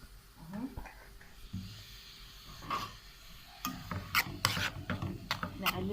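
Onion being stirred with cumin, salt and spices in a pan, quiet scraping and rubbing strokes of a spoon, close by and irregular, with a few sharper clinks toward the end.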